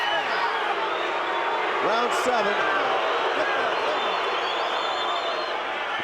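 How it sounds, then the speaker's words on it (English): Boxing arena crowd in Las Vegas during a title fight, a dense steady roar of cheering that fills the space throughout, with a ringside commentator talking over it. "The crowd is absolutely electric tonight here in Las Vegas."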